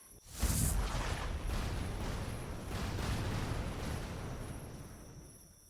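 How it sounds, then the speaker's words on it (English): Cannon salvo in the video game Chained Echoes, one sudden blast that swells into a long rolling rumble and fades out, with no voices. "Fire the cannons on my command."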